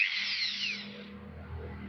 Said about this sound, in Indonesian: saya menggunakan mata bor kayu Breadpoint, masih produk Bosch, tapi yang ukuran 13 mm